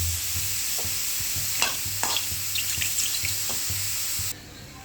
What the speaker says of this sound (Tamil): அதனால் இந்த காளான் அப்படியே வதங்கட்டும்.